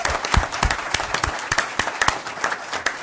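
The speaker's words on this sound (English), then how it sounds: "Round of applause." Applause from the audience at a city council meeting in La Verne, a steady round of clapping lasting a few seconds, moderately close and filling the room.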